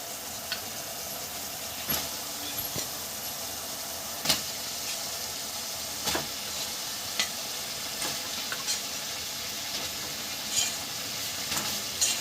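Fried potatoes added to spiced oil and stirred in a pan, a soft continuous sizzle broken by repeated scraping and clacking of a spatula at irregular intervals, fairly quiet and close, with no talk.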